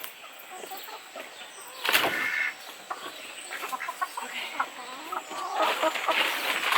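Chickens cluck and stir inside a backyard chicken coop during cleaning, soft irregular clucks and rustling at moderate distance, with a louder burst of flapping or scraping partway through and no talk.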